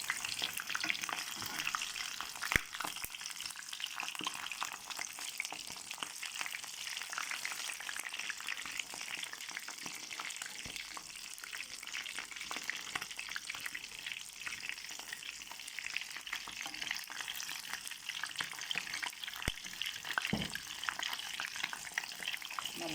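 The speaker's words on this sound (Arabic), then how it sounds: "حمرهم معانا كده ياخدوا اللون بتاعهم اللي احنا عايزينه" Chicken pieces fry in hot oil for an Egyptian stuffed-vegetable meal, a steady loud crackling sizzle throughout with occasional sharp pops and stirring clicks.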